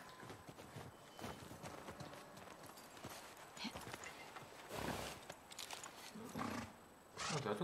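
Horse hooves clip-clop steadily in The Last of Us Part 2 as horses are fetched, mixed with game ambience and occasional low roaring growls.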